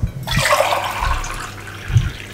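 Water pours into a cooking pot for a black chickpea curry, a loud, steady rushing splash that starts abruptly and fades slightly as it fills.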